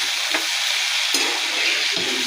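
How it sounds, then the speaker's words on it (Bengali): Mustard paste hits raw hilsa fish in a hot pan, giving a loud, close, continuous sizzling hiss with a few brief bursts of spatter. "এই সর্ষে দিয়ে দিচ্ছি কাঁচা ইলিশ করার জন্য"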